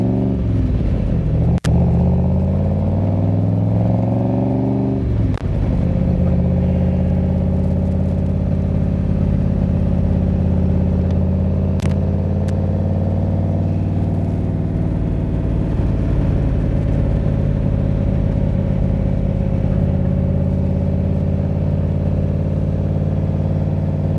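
A 1965 Shelby Cobra replica, a Superformance MkI, drives through a tight loop, its engine rumbling loud and close, revving up through the gears early, then settling into a sustained throaty drone.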